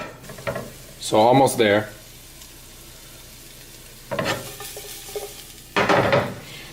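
Onions frying in a pan for bison sliders, a soft steady sizzle with a few close clinks and scrapes of stirring, under brief bits of talk.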